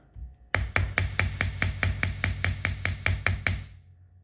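About fourteen sharp metallic hammer taps on a metal jewelry pendant in a steady, even rhythm, close and ringing slightly, then stopping.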